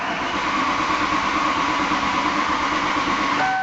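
A Lincoln Continental engine cranks without starting, its anti-theft system cutting fuel to the engine; a steady, loud mechanical whir runs unbroken close by, with no catch or firing.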